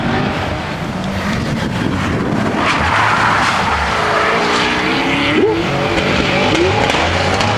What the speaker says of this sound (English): That's that Mustang making that noise over there